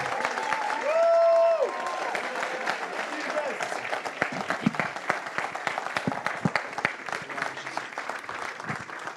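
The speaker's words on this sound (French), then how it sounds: "Est-ce qu'on peut lancer une acclamation pour Jésus-Christ ?" Church audience claps and cheers in acclamation for Jesus Christ, a dense, steady wash of applause with a brief shout or whistle early on, moderately distant.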